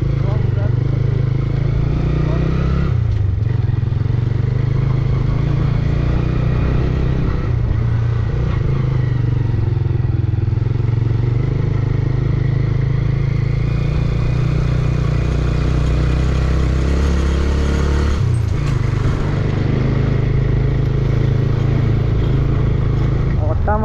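A motorcycle engine runs continuously with a low steady drone and occasional shifts in pitch while being ridden, loud and close, with a couple of brief drops, over wind noise and under talking voices.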